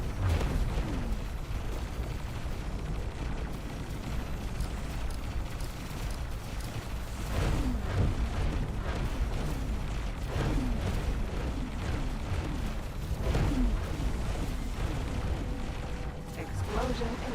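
Rumbling booms and bursts from a space station under attack in X4 Foundations, a dense continuous barrage of layered explosions with a few sharper blasts standing out, mixed under game voice chatter.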